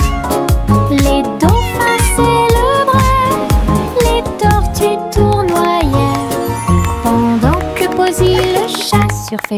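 Cat meows sung as a melody in a French children's nursery song about a surfing cat, carried over a steady, full musical backing with no break.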